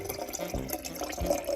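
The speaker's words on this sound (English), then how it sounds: "Got a refill, get some more water." Water runs from a tap into a bottle being refilled, a steady close splashing and gurgling stream with no talking.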